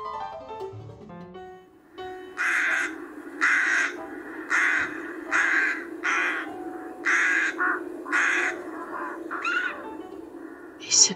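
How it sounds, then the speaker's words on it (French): Crows caw repeatedly in a steady series of harsh, rasping calls, fairly close and clear over a constant low background hum, after a few seconds of softer tonal sound at the start. "Ces corbeaux."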